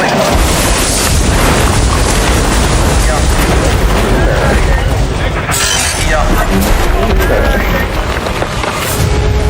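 A racing sports car nearing the finish line at about 150 mph slams into a track embankment, a loud, dense roar of crashing impact and grinding debris filling the whole stretch with no voices.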